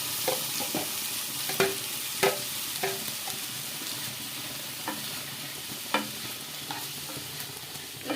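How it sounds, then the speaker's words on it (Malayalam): Cooked vegetables stirred in melted butter in a pan for veg chicken noodles, a steady soft sizzle punctuated by sharp scrapes and taps of the spoon, close and without speech. "നമ്മൾ വേവിച്ച് വെച്ചിരിക്കുന്ന ആ ഒരു പച്ചക്കറി ഇതിലിട്ട് നമുക്കൊന്ന് വഴറ്റാം"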